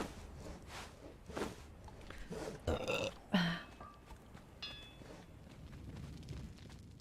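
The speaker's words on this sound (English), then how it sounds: "Oh my god, I burped." A single short burp from a person during a relaxed Conan Exiles gaming session with drinks. It sounds close but fairly quiet over low background noise, with a few faint clinks and thumps around it.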